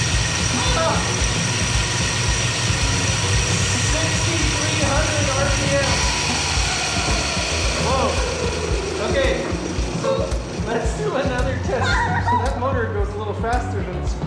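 A 48-volt brushless DC motor fitted to a Razor Dirt Quad spins up to high RPM. Its whine climbs steadily in pitch under a steady mechanical hum, with someone talking over it throughout.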